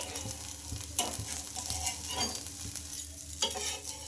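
Ridge gourd and wheat rava frying until golden and crisp, a continuous close sizzle with scraping stirs and a few sharper clinks of a spatula on the pan.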